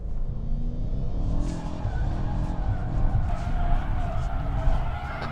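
Rear tires of a 2019 BMW M5 Competition squealing on a race track, a continuous loud screech over the roaring engine, sustained throughout with little letup.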